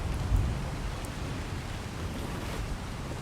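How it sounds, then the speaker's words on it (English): Steady rain falls at dawn in the early morning, a soft even hiss of drops with a faint low rumble at the start, moderately quiet and unbroken throughout. "the rain started immediately with the dawn"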